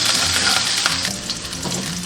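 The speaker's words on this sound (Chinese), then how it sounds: "再下入姜蒜、炒香。" Ginger and garlic stir-frying in a little cooking oil in a fresh pot, a loud continuous hiss and sizzle with scraping stirs, close up and without talk.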